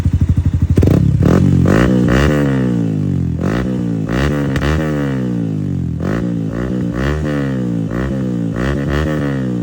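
A Yamaha Sniper 155 motorcycle with a TRC aftermarket muffler revs hard close up, the engine climbing and dropping again and again in throaty raspy bursts over a rumbling idle.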